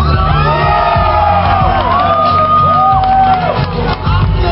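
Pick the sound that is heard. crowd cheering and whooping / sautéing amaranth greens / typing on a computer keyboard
crowd cheering and whooping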